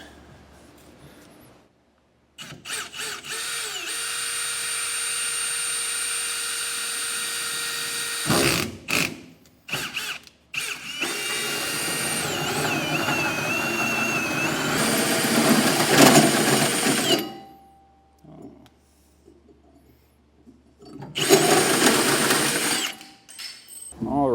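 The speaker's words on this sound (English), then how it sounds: "we're going to be coming in with a 4-inch hole saw" A power drill drives a 4-inch hole saw through the bed floor of a 2025 pickup during a B&W fifth-wheel hitch underbed install. Close, loud grinding comes in long runs with short stops and a final burst, with occasional speech in the pauses.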